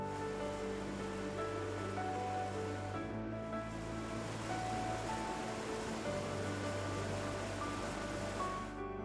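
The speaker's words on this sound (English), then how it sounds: "In summer, the roar of water blends with laughter as tourists and locals swim in its crystal-clear pools" A waterfall on a river in Bosnia and Herzegovina gives a steady, even roar of rushing water, a continuous broadband wash under a faint layer of music.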